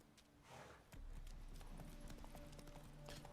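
Horse hooves clip-clop steadily in Witcher 3, a rapid, even gallop rhythm that stays close and fairly loud across the whole stretch, with no talking over it.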